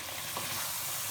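Spices and chilli frying and being stirred in a pan for chicken nihari, a steady close sizzle with soft scraping throughout, no voices.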